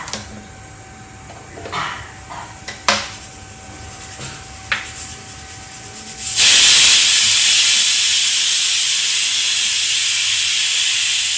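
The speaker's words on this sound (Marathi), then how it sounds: "तर इथे मी आता सगळं मी बॉईल करायला ठेवलेलं आहे." A pressure cooker of boiling chickpeas on a home kitchen stove gives a few clicks and short hisses, then bursts into a loud, steady, sustained steam whistle-hiss that continues to the end.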